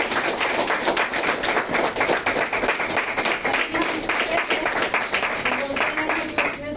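Loud, energetic audience applause for a featured upline guest at a motivational business talk, dense clapping sustained throughout, with a voice talking faintly underneath.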